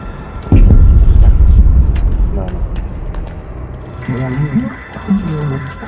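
Phone ringing in the video game Control, an object of power linked to the astral plane, heard as loud repeated electronic bell trills under talking that starts up partway through and keeps going.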